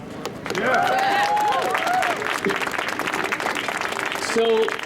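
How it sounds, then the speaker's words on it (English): Outdoor press conference crowd at Temple University applauding, dense clapping with loud whoops and voices rising over it. "So let's keep the round of applause going for Miss Sakari Rhodes."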